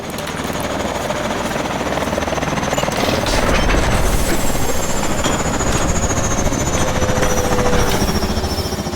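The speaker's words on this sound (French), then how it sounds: "Va à l'hélico, Mitchell" A helicopter in Call of Duty: Advanced Warfare thunders close and loud with a rapid rotor chop and turbine whine, steady throughout amid battle noise.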